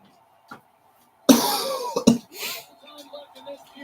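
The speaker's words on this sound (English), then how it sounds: "So there's going to be coughing." A couple of close, harsh coughs in quick succession, followed by some faint murmuring in an otherwise quiet room.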